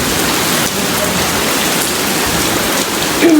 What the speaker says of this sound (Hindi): बहुत तेज़ बारिश आई है एकदम से